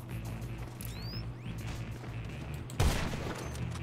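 Gunfire in GTA 5 Online, a steady rattle of many shots with a sharp, louder burst near the end, layered over a low game background hum.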